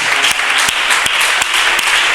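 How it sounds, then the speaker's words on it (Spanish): A church congregation gives a strong round of applause to the word of the Lord, loud, close, continuous clapping with a few sharper claps punctuating the dense wash. "Vamos a dar un fuerte aplauso a la palabra del Señor"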